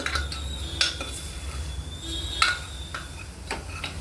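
Masala is stirred in a pot, a few sharp metallic clinks and scrapes of a spoon against the vessel over a low steady background hum and faint sizzle, close with no talk.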